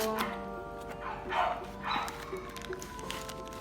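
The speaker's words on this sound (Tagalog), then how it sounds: "Ang ingay nung aso ko." A dog barks a few times nearby, the yaps spaced about half a second apart over a steady electronic hum.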